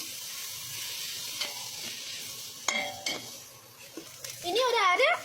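Chili sauce sizzles in a hot pan while cooking egg fried rice, a soft frying hiss with scattered utensil clinks and scraping, a voice speaking over it.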